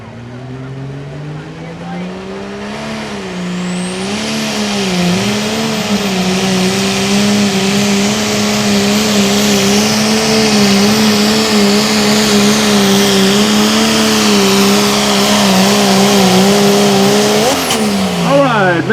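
A pulling tractor's engine roars during a truck and tractor pull run, climbing in pitch after a few seconds and holding a loud, sustained drone before dropping away near the end.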